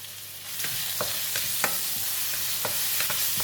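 Shallots, lemongrass and kaffir lime leaves stir-fry in a hot wok for chilli clams, a loud continuous sizzle with a few spaced spatula scrapes, close up and without voices.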